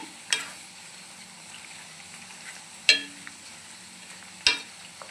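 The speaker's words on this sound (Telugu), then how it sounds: "ఒకసారి మొత్తం తిప్పుదాము" Homemade onion hair oil is stirred in a pan, giving a faint steady simmering hiss. Three sharp scrapes of the spoon against the pan come at wide intervals.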